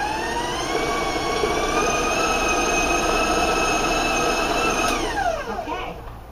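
Electric stand mixer beating oatmeal white chocolate cookie dough at high speed, a loud steady whining motor hum with a high tonal whine, holding for several seconds then winding down as the speed drops at the end.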